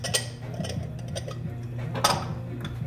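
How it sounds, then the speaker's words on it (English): Shrimp, broth and Spanish rice ingredients are stirred in a pot, with a spoon tapping and clinking against the metal over a constant low hum. "Now, stirring it all together."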